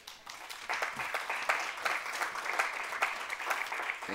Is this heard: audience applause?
yes